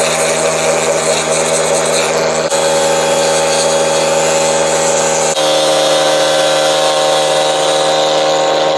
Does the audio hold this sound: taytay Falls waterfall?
no